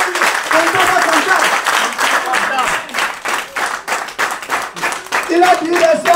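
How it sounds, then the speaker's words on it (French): Congregation of Ogboni worshippers clapping during a prayer gathering, a loud, dense run of hand claps with voices rising over the clapping at the start and again near the end. "Applaudissez-vous"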